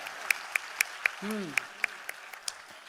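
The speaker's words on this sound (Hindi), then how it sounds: "मैं ताली बजा देता हूँ, आप तो बजा लो" A few sparse claps ring out one at a time at a university sports festival opening, isolated sharp hand claps in an uneven rhythm with a brief voice in the middle.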